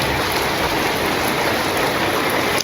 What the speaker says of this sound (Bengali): এই যে আবারও বৃষ্টি শুরু হয়ে গেছে